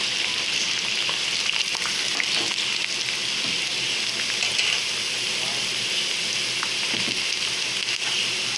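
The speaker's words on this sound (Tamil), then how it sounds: "இது அப்படியே நம்ம பொரிச்சு எடுத்துடலாம்." Sweet corn and potato pakoda fritters deep-frying in hot oil, a continuous loud bubbling sizzle that stays even throughout, close up and with no talking.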